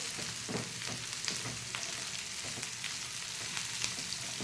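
Spiny gourd (kankoda) fries in a pan, a dense continuous sizzle with soft scraping stirs scattered throughout, fairly quiet and close, with no talking.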